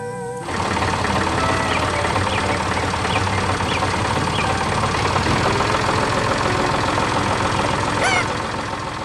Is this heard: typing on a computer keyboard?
no